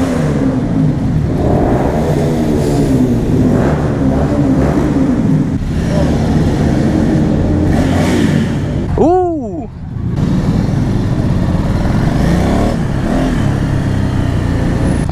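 A motorcycle engine revs hard and accelerates into a power wheelie, a loud close roar that rises and falls in pitch with a sharp whining sweep midway before settling back to a steady drone.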